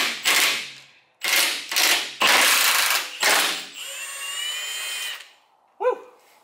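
Power tool, an impact wrench or drill, working bolts loose on a steel CBI off-road skid plate under a lifted Toyota Tacoma: several loud separate bursts of whirring and ratcheting, then a longer high whine and a short final burst.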